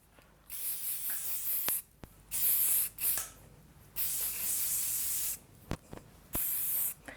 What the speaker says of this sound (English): Just going to use a bit of hairspray.